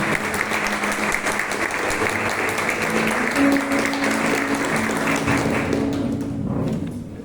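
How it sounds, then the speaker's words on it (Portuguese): A church congregation at an evening service claps in praise, a sustained, fairly loud wash of many hands that holds steady and tapers off near the end, with a faint voice or music tone briefly mixed in. "Dá uma salva de palmas ao Senhor nessa hora."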